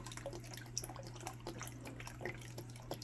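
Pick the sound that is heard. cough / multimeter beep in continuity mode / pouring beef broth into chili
pouring beef broth into chili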